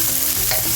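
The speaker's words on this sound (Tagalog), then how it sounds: "Ginisang sibuyas pa lang siya." Onions sauté in a hot pan with a loud, close, continuous sizzle for a brief moment.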